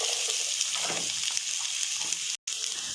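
Onions frying in a pan with fennel seeds and cumin, a steady soft sizzle throughout with a brief dropout near the end.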